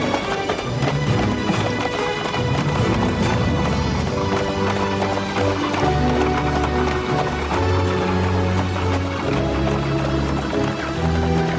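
Horses gallop in a cartoon Cinderella episode, a fast, continuous drumming of hooves over a loud backing music score.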